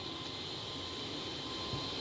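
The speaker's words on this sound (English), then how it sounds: "The noise you hear is the APU, Auxiliary Power Unit." Steady, loud drone of an aircraft auxiliary power unit running, a continuous whine and rumble with no change in pitch or level, heard without talk.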